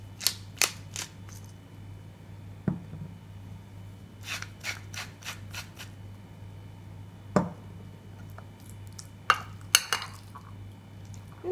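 Egg filling with mayonnaise, salt and pepper being mixed in a bowl, a series of faint scattered clicks and scrapes of a utensil against the bowl in a quiet kitchen.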